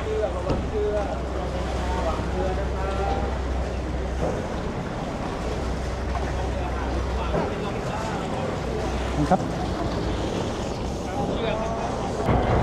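Low engine rumble and water wash of a crowded passenger river boat underway in Bangkok, with a constant murmur of many people chatting around and wind buffeting the microphone.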